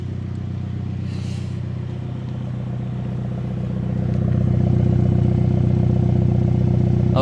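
A Mini GP3 sports hatchback engine idles steadily up close, a low rumbling drone with a faint rise in level partway through, no one speaking.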